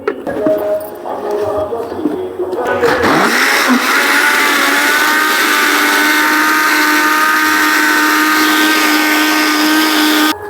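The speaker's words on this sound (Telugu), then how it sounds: "సో మిక్సీ అయితే వేసేసుకుందాం." A kitchen mixer grinder whirs loudly and steadily as it blends buttermilk with cumin, coriander powder and lemon juice, starting abruptly after a few seconds of quieter handling noises and running without a break to the end.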